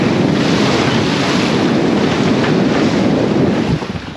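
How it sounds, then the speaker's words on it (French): Strong cross sea swell surges loudly around a sailboat, a continuous roar of waves and spray mixed with heavy wind buffeting the microphone, with no voices. "mer croisée, ça veut dire une houle qui va dans tous les sens et qui est forte"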